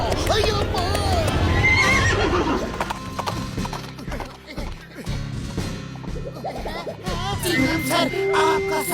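A horse whinnies loudly while hooves clip-clop in quick bursts, mixed with thumps and crashes; people talk over parts of the commotion.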